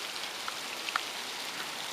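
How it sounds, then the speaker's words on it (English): Heavy rain pouring steadily outdoors near a house by a golf course after nearly two hours of downpour, a dense, even hiss with a few sharper drips standing out, no voices. "It's been raining now for almost 2 hours."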